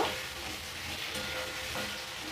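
Bhetki fish head frying in spice paste with green chillies in a pan, giving a steady, close, continuous sizzle with faint scraping of stirring throughout and no talk.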